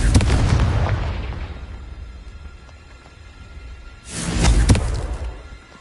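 Two booming explosions from the Confringo fire-blast spell in Hogwarts Legacy, the first loud and decaying slowly, a quieter rumble between, then a second heavy blast a few seconds later.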